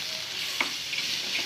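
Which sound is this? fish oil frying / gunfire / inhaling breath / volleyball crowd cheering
fish oil frying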